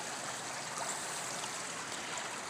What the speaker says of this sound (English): And it flows. There it's flowing.